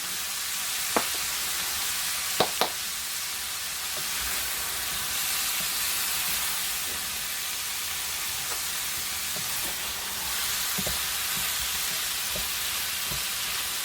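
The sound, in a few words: onions frying in a pan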